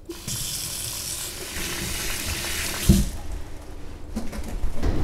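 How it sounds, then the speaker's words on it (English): Tap water runs steadily into a sink as fresh herbs such as basil are rinsed for Vietnamese chicken meatballs, a continuous close splashing hiss with a brief louder knock near the middle and shifting flow toward the end. "I'll just start by rinsing my herbs properly and drying them."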